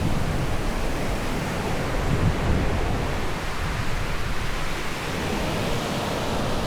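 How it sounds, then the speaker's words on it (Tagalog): Ocean waves break on the shore at Baler in a continuous, loud, broadband roar of surf and wash, with no distinct individual crashes standing out. "Nice wave."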